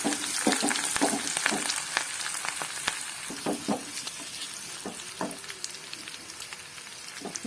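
Curry leaves sizzling in a pan of Palakkad-style masala curry give a constant crackling fry with sharp pops and stirring scrapes, close and uninterrupted by talk.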